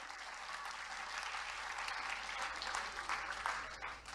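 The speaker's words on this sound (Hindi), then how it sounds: "तालियां रुकनी जी नहीं चाहिए देवियों सज्जनों" An audience at a Bundeli cultural gathering in India breaks into steady, dense applause, held at an even level and tapering slightly at the end, with a low hum underneath.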